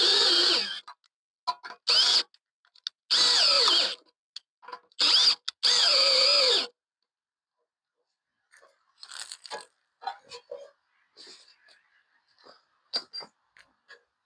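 Power drill driving screws into a DuraPost aluminium gate fitting, with several loud, close whirring bursts that start and stop, followed by quieter clinks and handling noises.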